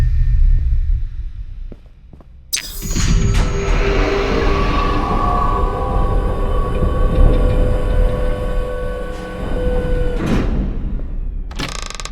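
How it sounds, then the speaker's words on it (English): In a video game, a train deep underground rumbles past loudly after a sharp clank, its heavy rolling roar and metallic squeals filling the space before fading near the end. "There's even a train deep below."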